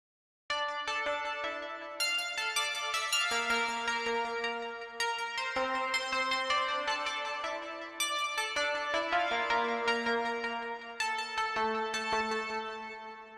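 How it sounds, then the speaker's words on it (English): Synthesizer arpeggiator running a chopped-up Eurobeat melody: bright, even, rapid repeated notes in a steady pulse, loud and alone, with the pitch pattern shifting every couple of seconds. "but what you hear is the arpeggiator"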